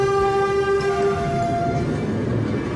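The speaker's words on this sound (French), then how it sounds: "Un train moderne et économique qui équipe une ligne de Turgovie." A modern, economical 570-horsepower train on a line in Thurgau, Switzerland, rumbles past at close range, a sustained multi-tone horn sounding over the steady roar of the wheels for most of the passage.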